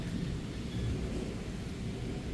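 Heavy rain falls during a nighttime thunderstorm around 3 a.m., a steady, moderately faint wash of downpour with low rumbling underneath and no voices.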